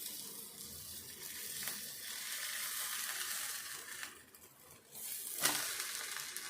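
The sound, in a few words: onions frying in a pan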